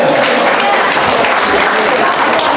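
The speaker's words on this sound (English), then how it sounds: "Let's give the Lord a clapping hand." A church congregation claps together at an anniversary service, a dense, steady wash of applause filling the room throughout with no pauses.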